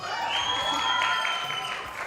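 Graduation audience applauding and cheering indoors, a dense continuous wash of clapping with some raised voices rising across the short stretch, loud and close.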